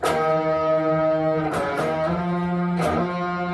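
Electric guitar plays sustained octave notes with a couple of sliding shifts between pitches, strummed chords ringing clearly with no talking.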